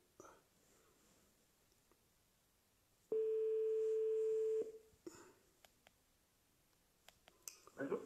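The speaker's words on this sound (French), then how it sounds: "J'appelle Platini pour qu'il me confirme avec Carly leur truc de ce soir" A telephone tone sounds while a call is being placed, one steady tone lasting about a second and a half, with soft whispering and small clicks around it and a voice just at the end.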